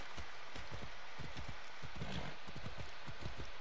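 Horse hooves clip-clop in a steady, fast rhythm of repeated low thuds throughout, loud and close, from a horse in a video game, with no talking over them.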